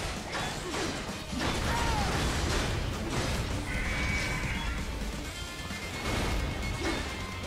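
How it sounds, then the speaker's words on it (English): Loud, dense video game action with crashing, popping bursts and mechanical clatter running continuously, like rapid gunfire and impacts in a busy scene. "Gunfire's just there to make your ninja run look cool."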